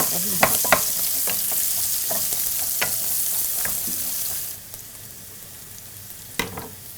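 Chopped garlic fries and browns in hot oil in a pan, a loud continuous sizzle with intermittent stirring scrapes, easing to a quieter hiss partway through, with no talking.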